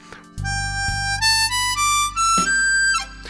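A harmonica plays a short ascending major pentatonic run of clear single notes in a high register without bends, each note held briefly, close and unaccompanied.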